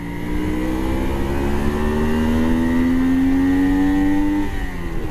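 A 125cc motorcycle out on a countryside ride, its engine note climbing steadily as it pulls through the gears, with wind rush underneath and no talking.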